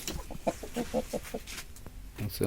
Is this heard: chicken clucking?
yes